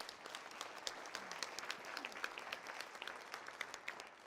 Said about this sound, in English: Come on, clap your hands in this place.